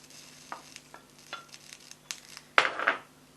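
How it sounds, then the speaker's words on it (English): Onion frying in a pan for egg fried rice gives a soft, quiet sizzle broken by a few light stirring scrapes and one sharper clatter of a utensil against the pan. "first of all, what goes in the pan is the onion"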